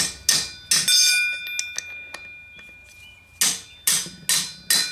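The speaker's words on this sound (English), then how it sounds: "Let me see if I can tap it on there a little bit with a little persuasion." Hammer tapping a part into place during a deck repair, about seven sharp ringing metallic strikes, a few early and a cluster of four at the end, with small clinks and quiet gaps between, close by.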